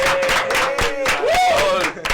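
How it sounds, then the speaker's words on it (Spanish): A radio-show studio audience welcomes a guest pastor with rhythmic clapping, mixed with cheering voices and a sustained whistle-like tone over the claps. "Un aplauso."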